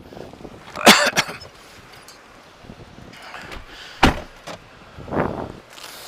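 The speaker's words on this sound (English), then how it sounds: "Close the door, Chris." A car door thumps shut inside a parked vehicle during a police officer's conversation, one firm slam near the start and another a few seconds later, with quieter rustling and movement between.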